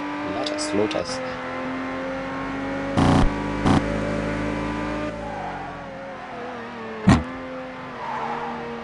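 Engine of a heavy GTR race car in the Assoluto Racing video game, a steady droning tone shifting pitch with revs, with brief bursts of louder noise, under continuous talk.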